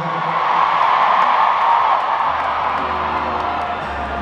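A concert crowd at the opening show of a tour, a loud, sustained wash of cheering and singing voices that stays dense throughout.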